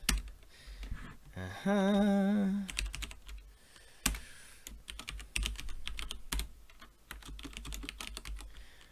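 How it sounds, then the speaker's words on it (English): Kotlin code being typed on a computer keyboard: quick clusters of clicking keystrokes, fairly close and quiet. A short tonal hum sits near the start. "we're going to use something called delegation by Kotlin here. And we'll explain it after I've typed it."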